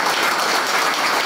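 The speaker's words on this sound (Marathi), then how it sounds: "आपला सर्वांना एकदम अतिशय जोरदार टाळे तर द्या" Audience applause at a motivational speech event in Navi Mumbai, a dense, steady burst of many hands clapping together, loud and sustained without a break.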